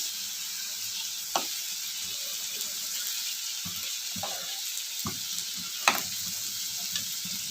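Goat meat fries in a pan with a continuous hissing sizzle, close and fairly loud, punctuated by occasional clacks and scrapes of a spoon stirring the pieces.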